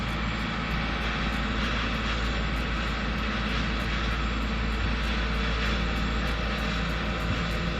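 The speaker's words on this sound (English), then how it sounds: "So the ferry seems to be running a diesel engine" Steady diesel engine of a cable-operated river ferry carrying six vehicles, running loud and close with a constant low drone and no talk, the broadband rumble holding evenly throughout.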